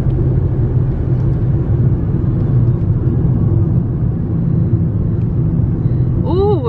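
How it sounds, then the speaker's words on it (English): A car drives across an airport runway in Shetland, Scotland, giving a steady, loud low rumble of engine and road noise from inside the car that continues unbroken for the whole stretch, with a short rising whine at the end. "Can't believe we're driving over a runway."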